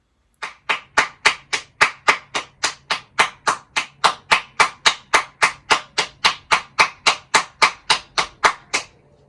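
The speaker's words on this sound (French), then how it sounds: "Ce soir, j'étais toute seule à applaudir." A single person claps alone from a balcony for health workers, about two dozen sharp, evenly spaced claps, close and loud, with no voices.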